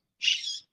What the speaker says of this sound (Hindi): ये जो चिड़ियों की आवाज है वो इस क्षण है